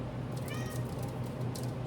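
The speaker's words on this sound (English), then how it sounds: "That's my cat that you can hear in the background." Pet cat named Mars meowing somewhere in the background of a kitchen during cookie baking, one short drawn-out meow, faint against a low steady hum.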